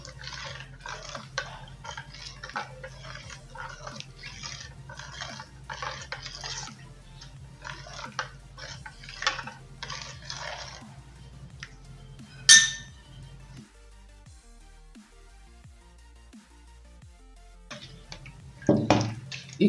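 A remedy mixed in a glass bowl: rapid repeated clinking of a utensil against glass in a steady rhythm, close and fairly quiet, then a sharp ping and a pause before a few more clinks.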